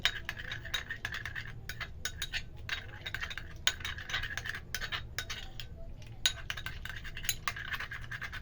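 A spoon scrapes and clinks against a bowl, steadily stirring a thick mixture of aloe vera gel, vaseline and rose water in quick repeated strokes, close and unaccompanied by speech.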